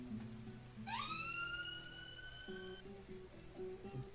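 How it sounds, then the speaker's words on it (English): An ambulance siren passes outside, its rising wail sweeping up sharply around one second and then holding steady at a moderate distance. Tones from a tabletop game session continue underneath. "No, that was an ambulance."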